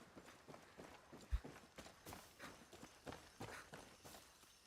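Steady, rhythmic hoofbeats of a horse clip-clopping at a trot in Far Cry 6, moderately loud and continuous with no talking.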